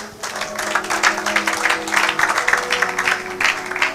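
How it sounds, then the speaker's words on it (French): A church congregation claps steadily and loudly for several seconds, the broad applause continuous and even, with a few faint sustained tones from a keyboard or organ lingering beneath. "Acclamez pour la gloire de notre Dieu."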